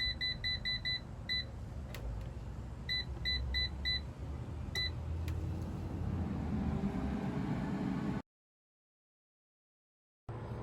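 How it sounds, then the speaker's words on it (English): An air fryer signals the end of cooking with bursts of short, high electronic beeps, two quick clusters of rapid pips over a low background hum, followed by a brief stretch of silence. "Now the air fryer is done cooking,"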